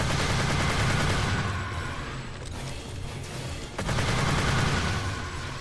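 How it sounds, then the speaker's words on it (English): Rapid, continuous sniper-rifle fire in Earth Defense Force 2017, a loud unbroken stream of overlapping shots like a long-range assault rifle, with a brief lull before the barrage resumes; no voices. "this is a heck of a thing to be called a sniper rifle."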